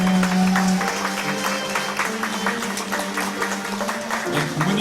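Scattered clapping from a wedding audience, moderately loud and continuous, with a sustained musical tone underneath.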